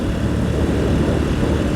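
A motorcycle engine roaring steadily during a ride on an open straight road, a loud continuous drone with wind rush, no voices.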